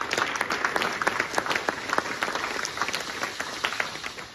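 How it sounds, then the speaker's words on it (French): Steady applause from a church congregation at an evangelical Sunday service, dense overlapping claps with a few sharper individual hits standing out across the whole stretch. "tu acclames pour ton Dieu"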